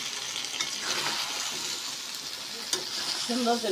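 Chicken and sweet pumpkin sizzle steadily as they are stir-fried in a pan, with a continuous crackling hiss, a few sharper utensil knocks, and a brief voice near the end.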